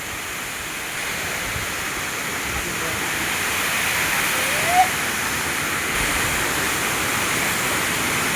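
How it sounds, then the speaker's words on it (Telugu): Kothapalli waterfall near Paderu gives a constant broadband rush of falling water at close range. A brief faint chirp-like sound rises once in the middle. "చాలా బాగుంటుంది ఈ వాటర్ ఫాల్స్."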